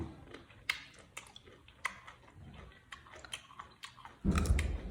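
Crunchy, crispy snack bitten and chewed close up in a series of sharp crackling crunches with short pauses between, ending in a heavier burst of chewing.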